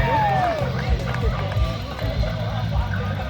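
Spectators at the Red Bull Pump Track World Championship qualifier in George Poston Park, Lowell, North Carolina, keep up a steady, dense roar of cheering. An announcer's voice talks over the crowd noise throughout.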